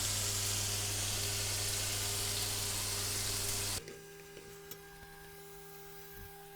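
Tomato and onions cooking in a pan for Senegalese white rice, a dense steady sizzle and hiss that cuts off abruptly partway, leaving quiet room tone with faint clicks.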